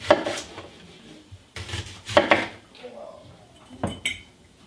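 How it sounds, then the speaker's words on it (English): An onion is peeled and thinly sliced with a knife on a cutting board in a home kitchen, giving a few distinct chopping taps and soft papery rustles with pauses between. "So I'm just going to peel my onion and then thinly slice enough to where I have about an inch thick layer of it in the jar."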